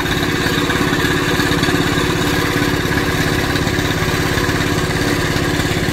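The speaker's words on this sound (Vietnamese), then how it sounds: "Cái máy kéo đang cuốn cáp vô mà." A winch engine at a boatyard slipway reels in cable to haul a Quang Ngai-style wooden boat uphill, a loud, steady close mechanical drone and chug with no talking.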